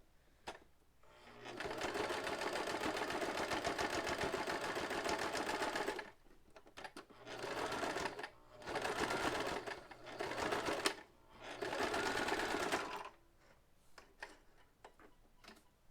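A sewing machine stitches fabric in four sustained bursts of rapid mechanical ticking, separated by short quiet pauses.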